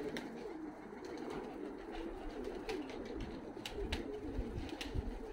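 Domestic pigeons in a dovecote in Tbilisi, Georgia give low soft cooing under a steady background hum, with a few faint wing flutters and rustles scattered through, no talking.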